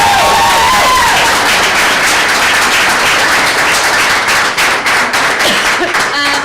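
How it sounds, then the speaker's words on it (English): Loud applause at a school board meeting, a dense wash of clapping from a seated audience that holds steady for several seconds, with a brief voice at the start. "I'd like Kent Kugel to please stand and take some applause"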